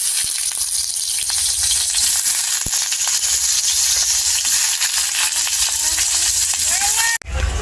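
Pieces of jackfruit hiss and sizzle in hot oil in a home kitchen pan for a Bengali jackfruit-and-prawn dish, a steady loud bubbling fry with occasional clinks, ending in a sharp knock.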